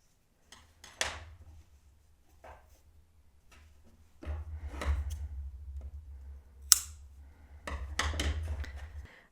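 Scissors snipping crochet yarn ends at close range, a handful of sharp, separate cuts with quiet handling between them and a low steady hum underneath.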